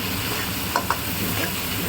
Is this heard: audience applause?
no